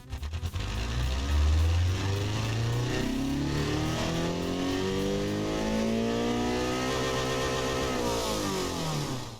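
A video game JDM sports car engine revs hard, pitch climbing and dropping through several gear changes, loud and continuous with a synthetic, game-like tone.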